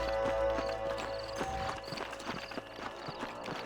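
Horse hooves clip-clop on the ground in Red Dead Redemption as riders dismount, with steady thudding steps and a brief whinny over a sustained musical drone and game ambience.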